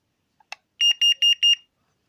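Angel Eye carbon monoxide alarm under test: a couple of faint clicks, then four loud, piercing electronic beeps in an even rhythm, heard up close with no talking.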